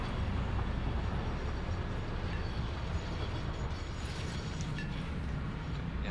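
Riding a train in Satisfactory gives a continuous rumbling roll with faint clicking and rattling on top, steady and loud throughout with no break.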